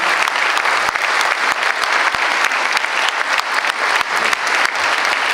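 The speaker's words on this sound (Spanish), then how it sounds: "le damos la palabra a Patricia Munier con un fuerte aplauso" Strong, sustained applause from a large audience at a panel event, a dense wash of clapping holding steady at high volume throughout with no break.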